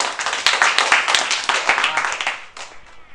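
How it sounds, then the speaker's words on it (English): A small audience at a how-to demonstration day gives a short, lively round of hand clapping, close and dense, then tapering off after about three seconds. "Give them a round of applause."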